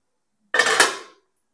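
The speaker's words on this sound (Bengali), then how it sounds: "15 মিনিটের পর ঢাকনাটা আমি খুলে দিচ্ছি" A metal lid lifted off a cooking pot of steamed doi pitha, a single short clatter and scrape, close and clear against silence.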